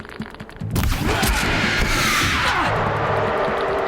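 A bandit's heavy gun in Horizon Zero Dawn fires in a dense rapid burst, loud and close, with blasts and crashing impacts that blend into a sustained roaring barrage.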